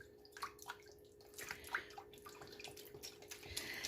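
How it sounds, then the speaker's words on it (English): Beef stock poured from a carton into a pot for brisket gravy, a soft, continuous splashing and trickling that wavers in strength throughout, fairly quiet and with no voices. "But I'm going to add the beef stock."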